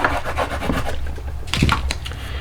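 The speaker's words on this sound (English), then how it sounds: "I'm going to burnish this side." Paper being burnished with a tool for a gingerbread and peppermint recipe album, close rhythmic rubbing and scraping strokes, fairly loud with no talking.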